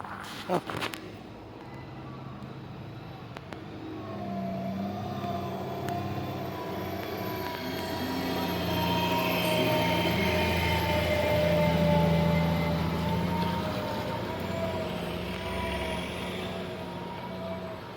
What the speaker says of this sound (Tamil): பயங்கர டிராஃபிக் ஆகுது